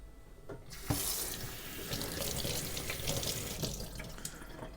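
Tap water runs into a container to rinse sprouting seeds, a steady rushing splash close by with a brief gurgle near the start, continuing alone without voices.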